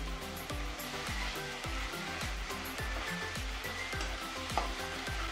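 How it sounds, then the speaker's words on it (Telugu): Masala frying with onions in a pan for chicken munnakkaya (drumstick) curry, a steady continuous sizzle with a regular rhythmic scraping or stirring pulse running throughout. "ఉల్లిపాయలు వేగిన తర్వాత మసాలా వేసుకుంటున్నాము."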